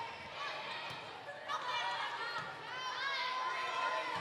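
Fans and sub-varsity teams chant in a gym crowd at a high school volleyball game, a rising chorus of voices echoing in the hall, with a nearby commentator talking over it.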